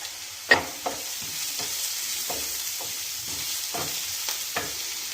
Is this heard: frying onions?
yes